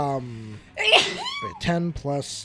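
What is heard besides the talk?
sneeze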